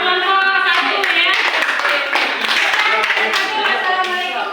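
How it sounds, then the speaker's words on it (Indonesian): A classroom of students clapping for a group after its presentation, quick bursts of hand claps that blend with sustained chatter and voices throughout. "tepuk tangan buat kelompok 1 ya"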